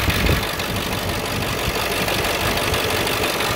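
A Ford F-250 pickup engine idles just after being started, giving a steady, even mechanical drone with no break.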